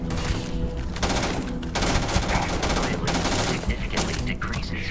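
Continuous heavy gunfire in the space RPG Starfield, dense rapid shots from several weapons blending into a loud, unbroken barrage, with voices in the game mixed in.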